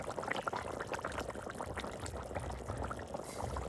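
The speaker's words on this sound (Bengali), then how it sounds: "এখন জল দিয়ে দেবো" Water pours into a pot of potatoes cooked down with spices for a fish curry, a steady continuous splashing stream running the whole time with no talking.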